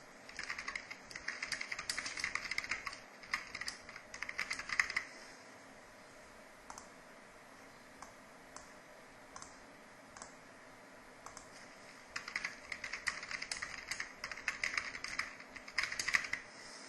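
Keyboard typing in bursts of rapid clicks, close and fairly quiet, with a pause of near silence in the middle before the typing resumes.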